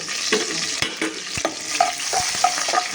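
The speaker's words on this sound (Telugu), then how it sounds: "ఇలా కొబ్బరి నూనెలో వేగిపోతుంటే ఎంత చక్కగా ఉంటుందో" Carrots frying in coconut oil with cumin, garlic and ginger, a steady soft sizzle broken by scraping stirs and light clinks of the spoon against the pan, close up with no talking.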